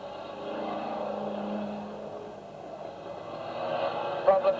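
Banger racing cars roaring down the track at a race restart, a steady engine drone at a distance that swells toward the end, with a commentator talking over it.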